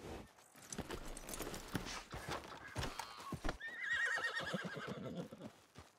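A horse in the video game Red Dead Redemption 2 whinnies loudly near the listener while its hooves clip-clop in an uneven patter, with a soft rustling backdrop and no speech.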